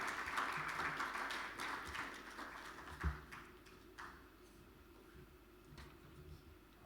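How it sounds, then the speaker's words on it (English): A symposium audience claps, the applause fairly faint and fading after a few seconds into quiet room noise with a stray knock. "Please, with a round of applause, let's hear it for Kathleen Flynn Dapar."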